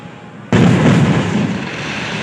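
Firecrackers set off for a village palanquin procession during a temple festival, a sudden loud burst followed by a long, dense crackling roar that stays loud and slowly fades.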